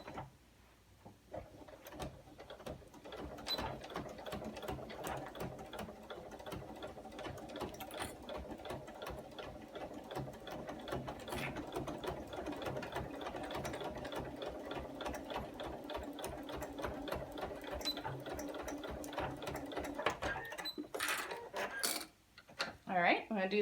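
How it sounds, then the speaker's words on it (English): A sewing machine stitches along the short edge of a zip pouch, running in a steady, continuous mechanical whir for most of the time, then stopping with a few clicks and handling noises near the end; a voice speaks briefly. "Now I'm going to sew down along the short edge. I'm going to sew a 1/4 inch away from the edge."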